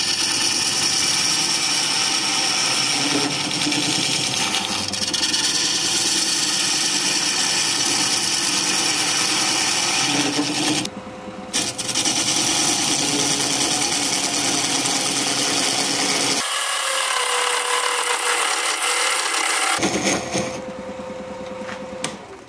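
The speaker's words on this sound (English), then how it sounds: "I'm gonna switch to a skew here to square up this corner in here." A skew chisel cutting wood on a lathe while squaring up a corner of a rustic vase, a loud steady buzzing, scraping whir that runs on with brief breaks.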